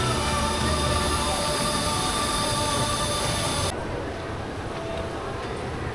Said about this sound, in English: it looks like the train is getting ready to pull out.